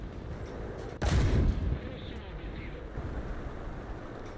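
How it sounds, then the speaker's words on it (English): A single heavy boom from the Turan II tank's fast-firing 75mm gun in the War Thunder video game rings out about a second in, then fades into low ambient rumble and wind. "use the fast firing 75mm gun to great"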